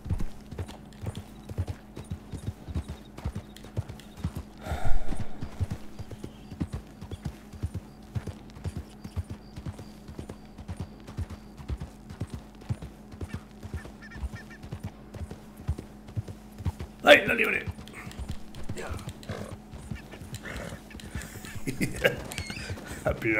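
Horse hooves walking in Red Dead Redemption 2, a steady run of soft clip-clop steps at an even pace, with a few louder bumps and brief game noises standing out over the rhythm.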